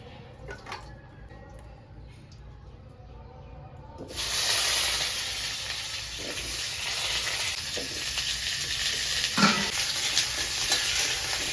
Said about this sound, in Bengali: যে গরম মশলাগুলো বেটে নিচ্ছি এই ভেজে নিচ্ছি এর সাথে কটা গোলমরিচও ভেজে নিলাম